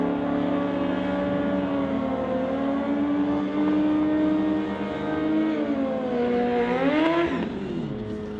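Drag racing cars in an NHRA Summit ET race run down the strip, a loud sustained engine roar whose pitch climbs steadily and then sweeps sharply as they pass, heard at a distance without talk.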